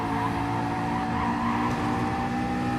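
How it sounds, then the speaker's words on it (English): A BMW GT3 car drifting in the dry on Tokyo Expressway in a racing video game, its engine droning steadily with tyre skid and squeal blended into a continuous close roar. "Elvio still trying to drift this BMW even in the dry"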